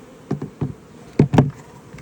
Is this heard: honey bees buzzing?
yes